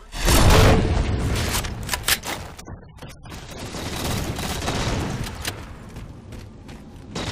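Shotgun blasts and rapid gunfire crackle through a Halo 4 Infinity Slayer match on the Abandon map, loud dense bursts with a brief lull midway before the firing resumes.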